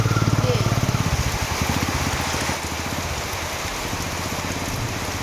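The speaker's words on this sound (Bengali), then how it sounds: "দুপুরবেলায় এমন বৃষ্টি এলো দেখো" Steady afternoon rain patters across the whole clip, with a low engine-like rumble underneath and no voices.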